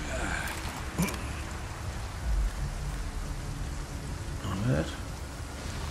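Heavy rain pours steadily in the Resident Evil 4 Remake, a dense continuous hiss that stays level across the whole stretch, with someone speaking briefly now and then over it.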